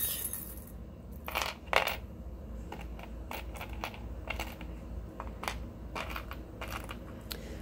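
Small metal charms clink and tap as they are picked up and dropped, with scattered light, close metallic clicks over a quiet background hum.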